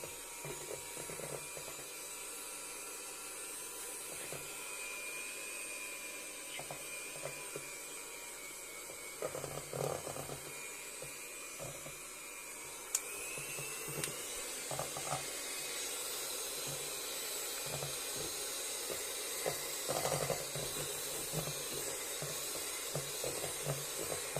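An electric mixer runs at its lowest speed while beating batter for wafer rolls, giving a faint, steady whirring hum with a soft hiss and occasional light knocks throughout.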